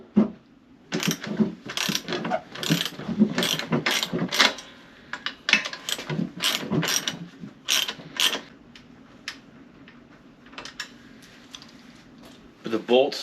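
A ratchet clicks in quick bursts while 10mm seat rail bolts are undone, the sharp metallic ticking rising and pausing repeatedly, close by, with a voice speaking briefly between the bursts.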